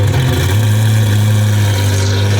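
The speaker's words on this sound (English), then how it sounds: "Sounds exactly like a freaking Aventador." Twin-turbo V12 Lamborghini SV engine idles after a warm start, a loud, steady, deep drone held throughout with no talking.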